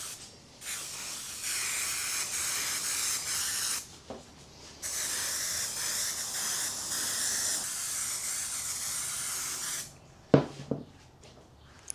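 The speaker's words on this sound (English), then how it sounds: "Take our 3M super strength spray glue." A can of 3M Super Strength spray adhesive sprays in long, steady hissing bursts with a short break, while building a mold press, ending with a few knocks and handling noises.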